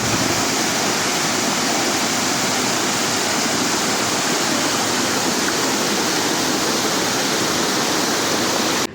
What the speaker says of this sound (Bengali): এই যে ওয়াটারফল, আর ওয়াটারফলের আওয়াজটা শোনাচ্ছি।